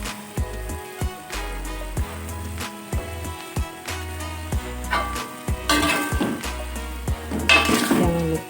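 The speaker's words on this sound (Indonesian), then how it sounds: "Dan terakhir kita masukkan tomat." Metal spatula scraping and clanking against a wok as tomatoes are stirred into a sizzling green chili tripe stir-fry, repeated rhythmic strikes with steady frying hiss beneath, close and clear, no talk.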